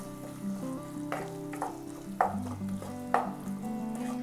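Chopped tomatoes sautéing in a hot pan for a dhaba-style chicken curry, a steady close sizzle with intermittent clacks of a spoon stirring.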